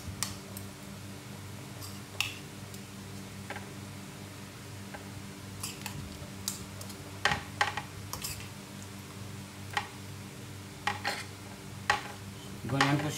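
Shredded coconut being mixed into palitaw dough, soft scraping and stirring with sharp clicks of a utensil against a bowl at uneven intervals over a low steady background hum.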